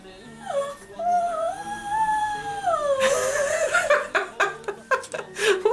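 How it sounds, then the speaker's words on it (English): A pet dog whines in a long rising and falling whimper indoors, followed by a burst of short yips and barks mixed with a person speaking and laughing nearby. "Stop barking, please."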